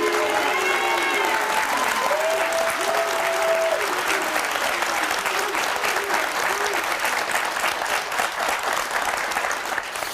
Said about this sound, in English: You got 200 people applauding you right now.